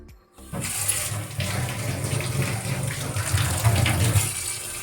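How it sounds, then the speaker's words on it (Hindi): Water gushes steadily from a tap after a household pump motor is switched on, a continuous near, fairly loud rushing flow that begins abruptly after a brief quiet moment and keeps running throughout. "पानी आ रहा है।"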